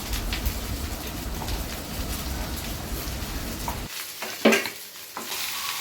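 Okra frying in a pan while being stirred, a steady close sizzle with scraping stir strokes, breaking off briefly near the end before more clinks and sizzling resume.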